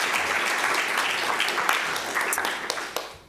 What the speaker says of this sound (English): Please give a round of applause to Jan.